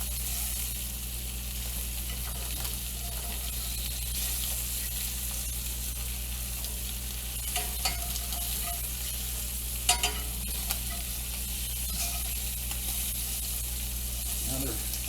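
Meat fat rendering in a hot pan gives a steady, dense frying sizzle throughout, with a few faint clicks and scrapes of stirring or pressing near the end and no speech.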